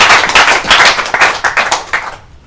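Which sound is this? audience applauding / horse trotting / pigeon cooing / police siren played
audience applauding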